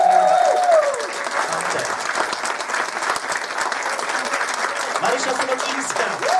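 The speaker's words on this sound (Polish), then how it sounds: "jeśli myślicie, że się zgodzę na takie oklaski" Sustained audience applause fills a hall at a special educational screening of the film Pan T, steady and dense from start to finish, with some voices mixed into the clapping.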